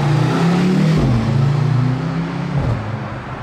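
Mercedes C63 accelerating nearby, a loud engine drone whose pitch climbs, dips at a gear change and climbs again before fading slightly.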